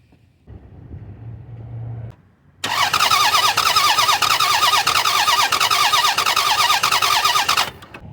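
Lexus ES300 engine cranking on the starter during a compression test: a short low hum, a brief pause, then about five seconds of loud, steady, rhythmic cranking that stops abruptly.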